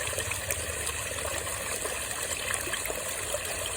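Water trickles and splashes steadily through a natural filter of plant roots, a continuous soft gurgling wash heard alone at close range.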